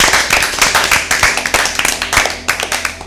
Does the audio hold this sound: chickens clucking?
no